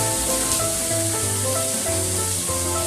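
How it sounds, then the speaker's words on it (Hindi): Chopped ripe medium tomatoes dropped into a pan of frying bottle gourd stalks, a loud, steady, dense sizzle that carries on without a break. "अब हम इसमें डालेंगे कटी हुई टमाटर।"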